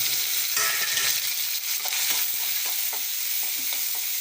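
Onion and tomato sautéing in hot oil for an anchovy fry make a loud, close, continuous crackling sizzle that holds steady throughout, with light stirring scrapes mixed in.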